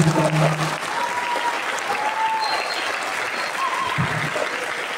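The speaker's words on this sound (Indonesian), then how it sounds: "tepuk tangan untuk acara kita hari ini" An audience at a religious gathering applauds in a sustained, even burst of clapping, fairly loud and continuous, with a few faint tones and murmurs underneath.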